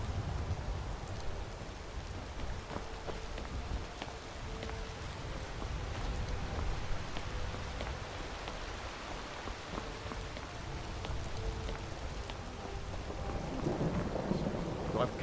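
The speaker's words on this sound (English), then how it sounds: "It's raining." Rain falls in Skyrim, a steady quiet wash of droplets with low rumbling underneath, heard alone without talk.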